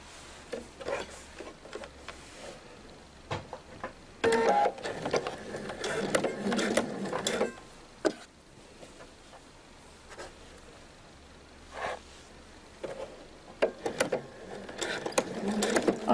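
A sewing machine stitches double-sided jacket fabric a few millimetres from the edge, giving quiet, stop-and-start bursts of rapid mechanical clatter separated by short pauses.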